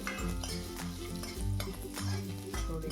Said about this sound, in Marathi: त्यामध्ये थोडं तेल टाकून काजू फ्राय करून घ्यायचे आहेत